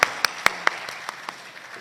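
Audience applause at a shield presentation during a school naat competition: a burst of sharp claps that quickly thins into a few scattered, fading hand claps with no talk.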